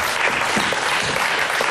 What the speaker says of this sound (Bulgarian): Аха, аплодисменти!